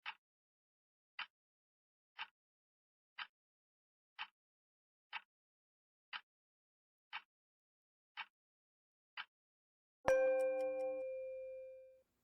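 Ten short, evenly spaced bell dings about one second apart, quiet and clean, followed by a single louder ringing bell strike that sustains and fades, used to mark the start and end of a yoga pose.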